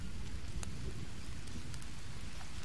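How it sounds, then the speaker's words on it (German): Steady rainfall in the jungle survival game Green Hell, a dense even hiss of drops with a few sharp taps standing out, constant and close with no voices. "Es regnet wieder."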